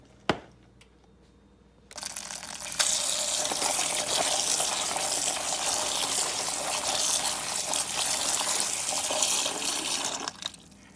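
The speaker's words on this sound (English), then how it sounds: "Now that we've washed our cranberries" Cranberries rinsed under a running kitchen tap, a click and then a steady gushing stream of water that starts abruptly and keeps going for several seconds before cutting off near the end.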